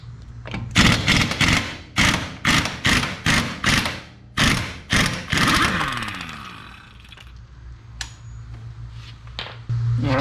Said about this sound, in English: I'm going to use an impact wrench just to remove the wheel bearing nut.